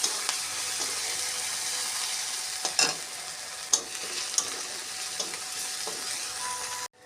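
Ginger paste, chilli and cumin fry in hot oil alongside browned garlic, giving a steady, close hiss of sizzling broken by a few sharp stirring clicks and taps; no voices.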